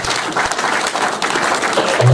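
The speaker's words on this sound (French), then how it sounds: "je vous prie d'applaudir mon serviteur" A crowd at a gathering applauds loudly and closely in a dense, continuous wash of clapping, with a few voices mixed in.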